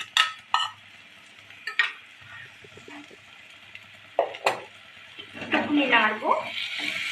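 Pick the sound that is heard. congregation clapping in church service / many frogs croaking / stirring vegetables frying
stirring vegetables frying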